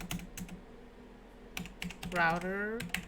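Keys clatter on a computer keyboard as a terminal command is typed, a few quick bursts of close clicks with a short tonal hum in the middle, no speech.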